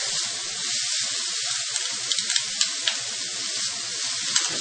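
Green chili and garlic sizzle in a hot pan alongside onions for an aloo methi dish, making a bright, steady hiss with a few soft pops and clicks up close.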